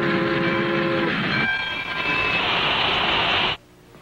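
A cartoon train pulls in with a loud, steady rumble and clatter while a whistle sounds in held tones, all ending abruptly near the end.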